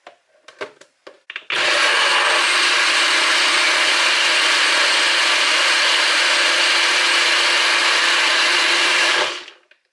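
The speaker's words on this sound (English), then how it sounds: "give it another blend" A blender whirs loudly and steadily for about eight seconds, blending raw peanuts, peanut butter, sea moss and oats, after a few short clicks and knocks at the start, then winds down.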